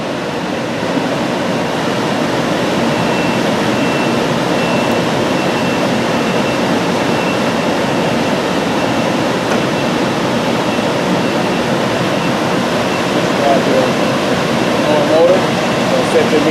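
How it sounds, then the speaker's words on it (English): An HVAC unit's motor hums under a steady broadband whoosh of moving air as its variable frequency drive winds it up, continuous and fairly loud. "what you hear winding up is the variable frequency drive"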